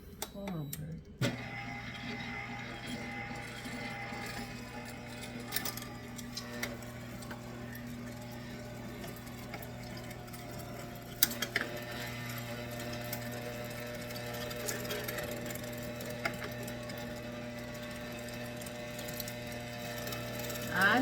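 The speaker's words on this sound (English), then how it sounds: "I'm going to continue grinding this, and I'll be with you when I finish grinding." An electric meat grinder grinding veal for a veal, pecan and bourbon meatloaf, running as a steady mechanical whir with ticks and clicks throughout, with occasional louder knocks.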